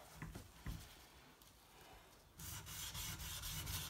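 Knife steel rubbed back and forth on a coarse whetstone such as a Shapton Pro 120, Nanohone 200 or Bester 220, a close rasping scrape in short strokes that turns into a louder continuous grind.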